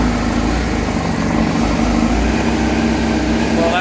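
A Honda Fireblade RR-R SP motorcycle engine runs at a steady idle after starting, giving a continuous, fairly loud, close mechanical hum with an even rumble that holds throughout, and no talk over it.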